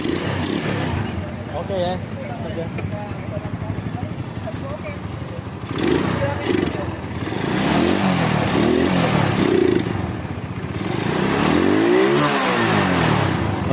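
A Minerva R150 motorcycle engine is cranked and started after electrical work, then revved in several rising and falling bursts close by, with someone speaking briefly.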